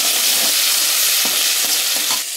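Tomatoes frying with salt in a pan while being stirred: a loud, close, continuous sizzle broken by a few soft scraping strokes of the spoon, and no talking.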